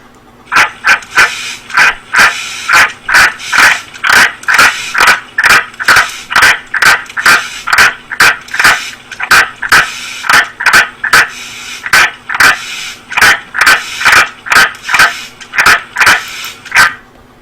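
An Australian green tree frog, heard from a played video, gives loud, rapid, evenly repeated harsh barking calls in a steady series that runs throughout, close and dominant, with no talk over it.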